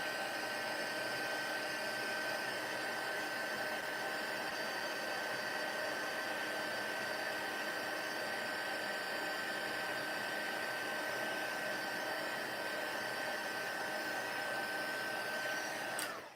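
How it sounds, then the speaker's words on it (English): A heat embossing gun runs as it warms up for heat embossing, giving a steady, close whooshing hum with a faint high whine that continues unbroken before cutting off at the end. "the first time you use your embossing gun for that day takes a little bit longer because the heat tool has to warm up a little bit."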